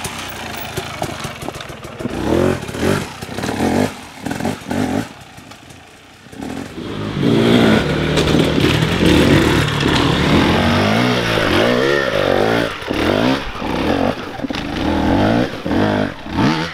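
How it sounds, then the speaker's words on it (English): Husqvarna 300 enduro motorcycle at a Red Bull Romaniacs race, its two-stroke engine loud and close, blipping in short revs at first and then held in a sustained high-revving howl with rising and falling pitch. "I'm riding a Husqvarna 300."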